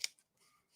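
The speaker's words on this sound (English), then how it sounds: "I'm just going to take my scissors and I'm going to cut a strip" Scissors snip through a strip of tape while rhinestone blinging: one quick, crisp cut right at the start, close but faint, then near silence.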